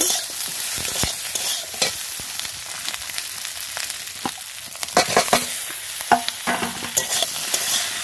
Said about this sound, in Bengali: এবার যেগুলো সিদ্ধ করে রেখেছি এটাকে দিয়ে একটু নাড়াচাড়া করে নেব।